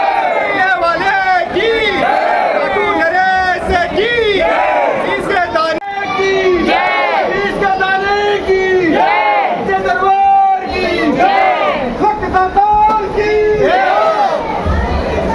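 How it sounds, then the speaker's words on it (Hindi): A large crowd of devotees at the Khatu Shyam Ji temple chants and shouts loudly in unison. The waves of massed voices rise and fall close by, and individual voices stand out within the din. "तो देखिए दोस्तों कितनी भीड़ है"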